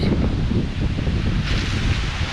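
Strong wind gusting around 50 mph, roaring loudly and continuously against the microphone with rustling leaves and turbulent buffeting.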